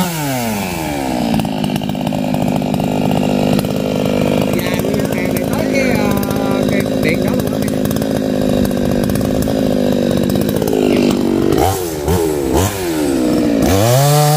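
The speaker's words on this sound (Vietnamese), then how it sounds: "để cưa nguyên hàng cây này" A loud chainsaw roars close by, cutting down a row of large trees, its engine revving up and down, with bursts of higher whine near the end.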